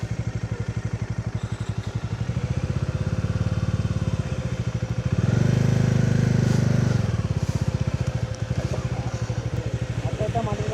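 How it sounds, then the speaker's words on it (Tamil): A Bajaj Dominar 400 motorcycle climbs an off-road slope at Varattumedu, its engine thumping in a fast, steady pulse and swelling louder as the revs rise midway, then settling back, with voices occasionally heard over it. "அது பாட்டு ஏறுதுண்ணே வண்டி."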